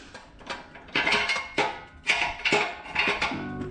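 A tire machine works on a motorcycle tire to break the bead, producing a series of loud close mechanical clunks and metallic ratcheting bursts in an uneven rhythm.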